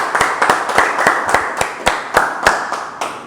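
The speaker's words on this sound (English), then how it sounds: "let's have a round of applause for you guys" A small group claps in a steady, spaced rhythm of about a dozen sharp, close claps at a financial goals workshop, with no talking.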